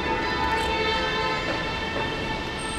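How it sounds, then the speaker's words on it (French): Car horns blare in a steady, sustained chorus on a busy Canadian city street amid construction, loud and continuous with traffic rumble beneath and no talk. "voilà un petit concert gratuit de klaxon"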